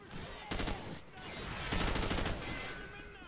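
Call of Duty 4: Modern Warfare gunfire comes in short, rapid bursts, one early and a longer volley midway, over a constant background of game noise, with a voice talking at times.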